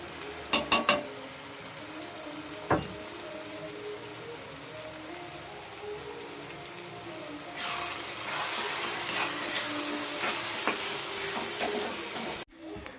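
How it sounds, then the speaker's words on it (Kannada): Onions and masala spices fry in oil for paneer bhurji, giving a steady hiss that swells into a louder, denser sizzle partway through, with a few stirring clinks near the start before cutting off at the end. "ಆಯಿಲ್ ಬಿಡೋ ಥರ ಮಸಾಲ ಈರುಳ್ಳಿ ಎಲ್ಲ ಫ್ರೈ ಆಗಿದೆ ಚೆನ್ನಾಗಿ"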